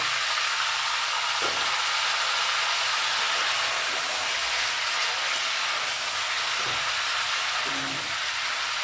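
Vegetable stalks in hot oil with five-spice, a steady, even sizzle and hiss from start to finish with a few faint clinks from the pan, no voice.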